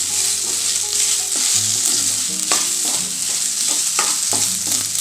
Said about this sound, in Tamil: வெங்காயம் அப்போ தான் நல்லா வதங்கும்